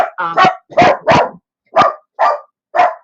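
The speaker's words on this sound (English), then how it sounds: "noisy dog" A dog barks in six sharp, separate bursts over a few seconds, loud and close, with short silences between the barks and no other sound.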